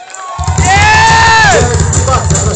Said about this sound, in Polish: Wielkie brawa dla zespołu